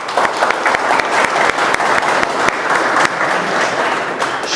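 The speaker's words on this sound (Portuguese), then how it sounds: "Eu queria uma salva de palmas, pessoal, para a nossa equipe que trouxe um sanduichinho para nós." An audience at a workplace safety and personal protective equipment lecture for construction workers breaks into loud, sustained applause, a thick, even roar of clapping that stays strong throughout.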